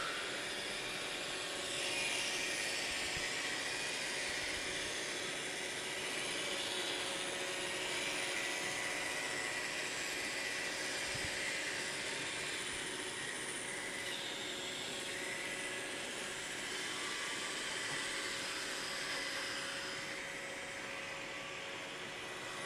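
A Roomba robot vacuum cleaner runs with a steady, loud broadband whir and hum throughout, with a couple of faint bumps underneath.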